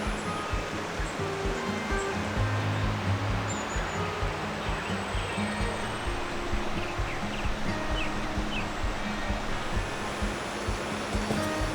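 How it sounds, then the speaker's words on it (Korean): A steady, broadband rush of a flowing valley stream by a riverside campsite fills the whole stretch, continuous and fairly close, with faint birdsong and rustling on top. "이 계곡물 흐르는 소리도 좋고"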